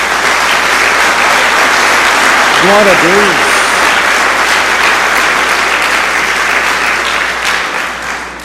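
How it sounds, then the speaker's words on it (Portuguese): A church congregation applauds steadily for several seconds, a broad wash of clapping that tapers near the end, while a voice speaks briefly over it. "Dê uma salva de palmas a Jesus."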